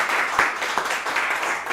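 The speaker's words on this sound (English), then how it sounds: "let's everybody give yourselves and everybody else a big round of applause" A live audience at a modular synth performance gives a round of applause, a dense steady wash of many hands clapping close by for the whole moment, with no voices over it.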